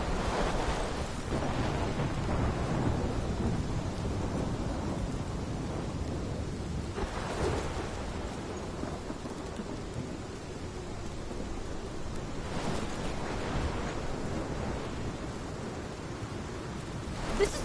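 Steady thunderstorm ambience from the video game Life is Strange, a continuous roar of heavy rain with low rumbles of thunder swelling around the middle and later on, loud and unbroken with no talking.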